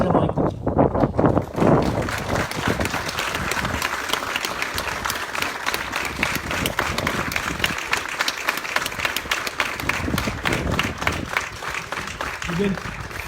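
An audience at a conference of Marseille football supporter groups bursts into sustained applause, a dense wash of many hands clapping at close range, slightly tapering toward the end, without talk on top.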